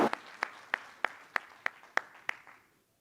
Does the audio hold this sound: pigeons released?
no